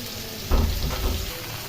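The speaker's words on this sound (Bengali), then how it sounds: "মাছটা কিন্তু বেশি ভাজবো না আগেই বলেছি একদম হালকা করে ভাজবো" Aar river fish fries lightly in oil, silent at first, then a sudden loud burst of sizzling that settles into a steady, close crackle.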